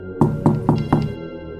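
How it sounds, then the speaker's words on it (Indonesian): Soft knocks outside a window at night, a spooky sound effect in a narrated horror story: four evenly spaced muffled thuds in a slow, steady rhythm, close and clear with no voice over them. "Di luar jendela, saat angin malam meniup gorden tipis, terdengar suara ketukan pelan."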